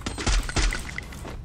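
Two sharp, loud gunshots crack in quick succession in the Free Fire battle royale game, followed by a short fading tail with faint metallic clinks.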